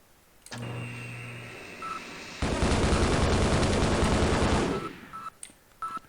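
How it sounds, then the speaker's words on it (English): Automated turrets firing in a Half-Life game map: a dense, continuous burst of rapid gunfire lasting a few seconds, loud and close, bracketed by electronic beeps and mechanical whirs. "we got these turrets. They violently gun him down"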